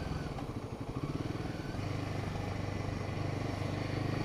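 A Royal Enfield Himalayan 450 single-cylinder motorcycle engine runs with a steady, poppy low thumping pulse that holds evenly throughout, fairly close and moderately loud with no voices.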